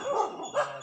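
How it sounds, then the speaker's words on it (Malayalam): Dogs barking, including puppies, near an abandoned well: two short yapping barks in quick succession, fairly near and moderately loud, with no talk. "എന്താ മജീദ്, നിങ്ങളെ കാണുമ്പോ നായ്ക്കളെല്ലാം കൂടി എല്ലാം കൂടി കുറയ്ക്കണല്ലോ."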